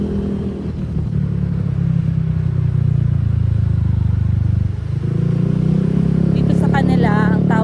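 A motorcycle engine rumbles steadily and close, with a brief dip midway before its throaty drone returns, and a voice briefly rises over it near the end.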